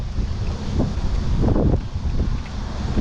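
Strong wind buffets the microphone in gusty, rushing bursts, loud and close, with no voices.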